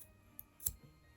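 Scissors snipping through a candle wick or wax, a small click followed by one crisp, close cut, faint and brief in a quiet room.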